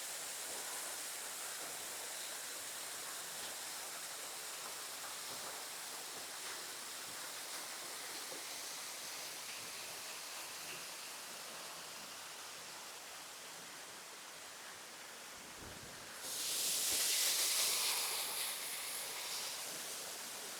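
The Devaregundi waterfall near Sullia pours in a steady, broad rushing roar that holds constant for about twenty seconds, with a brighter hiss swelling near the end and no voices.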